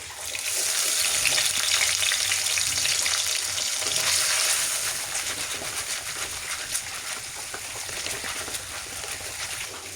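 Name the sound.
ginger garlic paste frying in hot coconut oil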